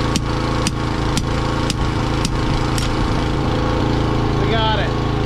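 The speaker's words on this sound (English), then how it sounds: "We're gonna do some honing on it right here so we can get it to come past our bushing." A part is honed so it will slide past a bushing, with a continuous loud motor whir and faint regular ticks that run throughout.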